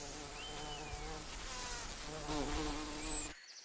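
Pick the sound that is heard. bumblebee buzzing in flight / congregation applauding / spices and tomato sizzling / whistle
bumblebee buzzing in flight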